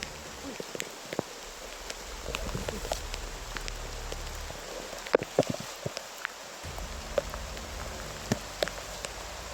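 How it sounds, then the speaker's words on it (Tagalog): Heavy rain pours down steadily on a surface, a dense wash of drops with occasional louder splats and rustles close by, and no talking over it. "Kusog kayong ulan."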